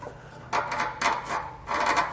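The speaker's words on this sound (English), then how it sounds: "you could take a pry bar or a big flathead screwdriver and just kind of pry one end of the hanger" A pry bar scrapes and rasps against the metal of an exhaust hanger under a 2020 Mazda CX-5, in three short, close grinding strokes with no talking.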